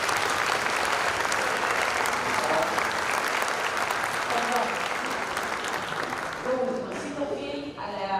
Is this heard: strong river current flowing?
no